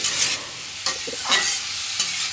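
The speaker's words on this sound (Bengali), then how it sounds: "দিয়ে দিলাম দুইটা মরিচ কেটে ছোট করে" Chopped chillies stirred into a cauliflower and carrot stir-fry in a pan with no added water, giving a soft steady sizzle broken by a few louder scraping stirs, close by with no voices.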